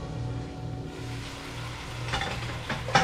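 Red snapper cooking in a pan with fried onions and slit green chilies, a soft, steady sizzle with light stirring and a few utensil clinks near the end, no voices.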